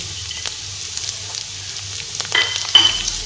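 Onion and ginger fry in oil with a soft, close sizzle. Light stirring scrapes and taps come in, growing busier toward the end.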